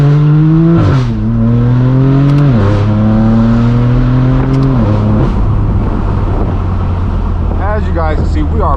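A straight-piped BMW M4 F82 driven on a Michigan road, its loud engine climbing through repeated revs and upshifts with brief drops between gears, then settling into a steady droning cruise.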